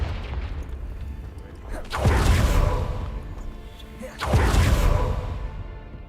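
Two Confringo blasting spells explode in the video game Hogwarts Legacy, each a loud, deep boom that swells and then rumbles away, about two seconds apart, over a low background hum.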